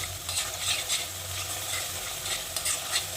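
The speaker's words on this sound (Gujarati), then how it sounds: "ગેસની ફ્લેમ થોડી ફાસ્ટ કરી અને બધા મસાલાને સરસ મિક્સ કરી દઈશું" Spices for a drumstick, pea and potato curry stirred in a pan over a high flame, a close steady sizzle with rhythmic scraping of the spoon against the pan, no talking.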